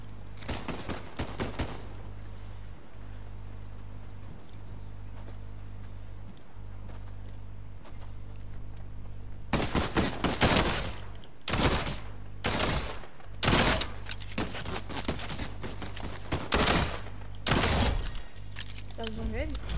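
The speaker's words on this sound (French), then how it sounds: "pistolet primatif. Il tire deux balles par deux balles" Primitive pistol fire in Fortnite: sharp, close gunshots come in quick pairs and short clusters, separated by quieter gaps, first in a brief burst and then repeatedly later on, over a steady low game hum.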